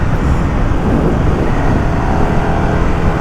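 A KTM Superduke 1390R motorcycle engine at light throttle on a wet road, giving a loud, close, continuous low rumble with steady booming pulses and road noise, with no talk over it.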